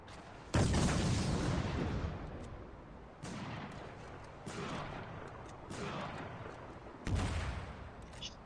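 Grenade explosions in Spec Ops: The Line multiplayer, several sharp booming blasts spaced a second or more apart, each followed by a short rumbling decay, close and loud.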